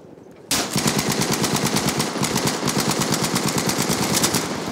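Rapid automatic gunfire from Battlefield V, in the Firestorm battle-royale mode, starts abruptly after a half-second hush and keeps up a steady fast rattle of loud, close shots to the end.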